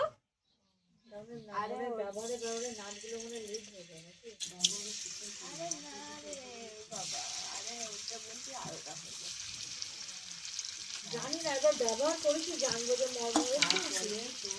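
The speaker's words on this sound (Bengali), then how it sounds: "এবার আমি পনিরগুলো ভেজে নেব।" Cubes of paneer fry in hot oil in a kadai, a bright steady sizzle with stirring, mostly under a person's ongoing talk.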